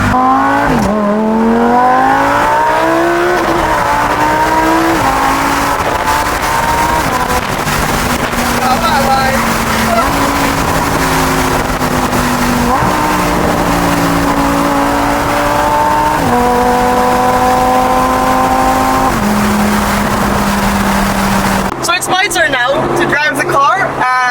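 A Lamborghini Huracan Spyder LP610 engine revs hard and accelerates, its pitch climbing and stepping down with each gear shift, loud and close from the passenger seat, ending in a rush of wind noise.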